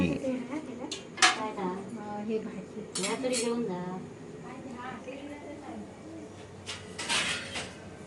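A metal lid set down on a cooking pot in a Konkan home kitchen, with clinks of pots and cutlery around it and someone speaking over the clatter.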